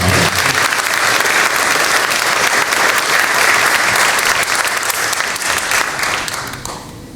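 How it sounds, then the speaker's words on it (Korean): Loud, sustained applause fills a university hall at a presidential inauguration thanksgiving service, a dense crowd clapping steadily before tapering off near the end. "다시 한번 큰 박수로 축하해 주시면 감사하고요"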